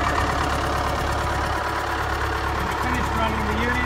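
A US Jetting 4025 jetter unit's engine runs at a steady, throttled-down idle, giving a continuous low mechanical drone with a faint knocking texture that stays level throughout.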